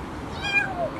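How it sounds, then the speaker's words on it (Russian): A kitten trapped under a car hood in cold weather gives a single thin, high meow, faint and somewhat distant against light background noise. "Да, живой котенок."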